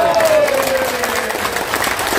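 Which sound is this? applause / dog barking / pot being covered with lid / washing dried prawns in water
applause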